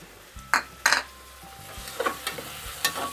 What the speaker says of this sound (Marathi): आता हे चांगलं हलवून घेते।